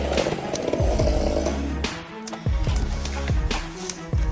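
A heavy-duty chainsaw cuts into a massive spruce tree about 150 feet tall, its engine a steady, loud, rough drone that dips briefly midway before surging again.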